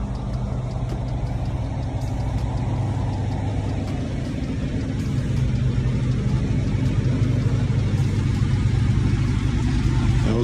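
A heavy truck in Brazil pulls away, its engine rumbling loud and close as it accelerates steadily for about ten seconds, alone without speech.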